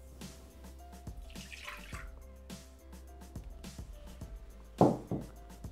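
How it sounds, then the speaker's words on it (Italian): Milk poured into a Thermomix jug for bread loaf, a soft trickling, dripping liquid stream with a louder splash near the end, close and faint, no talk. "Iniziamo la ricetta mettendo all'interno del boccale il latte."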